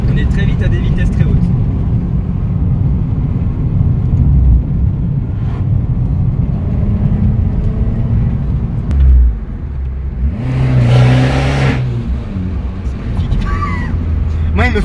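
Abarth 595 Pista with a Stage 1 Monza exhaust, around 200 horsepower, accelerating hard at high speed, its engine droning loudly inside the cabin and swelling into a roaring rev near the end, with people talking over it.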